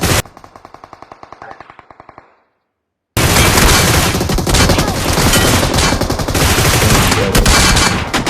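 Automatic gunfire bursts from a BGMI match, first a quieter rapid stream of evenly spaced shots, then a brief silence, followed by loud, dense sustained firing with layered reports.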